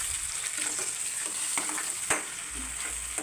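Chopped tomatoes and onions fry in a pan with a steady, close sizzle, broken by a few soft stirring scrapes, and nobody speaks.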